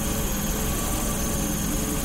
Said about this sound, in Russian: на холостом ходу просто идеально тихо